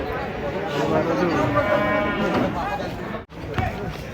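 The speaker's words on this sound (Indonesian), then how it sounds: "Rombongan sapi unik." Cattle being unloaded from a truck moo in long, drawn-out calls against a dense, noisy outdoor background, with people talking throughout.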